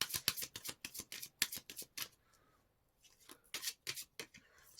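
Tarot cards are handled and shuffled close up, giving a quick run of crisp riffling slaps, a short pause, then more card flicks as one card is drawn from the deck.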